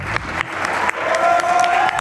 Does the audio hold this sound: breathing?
no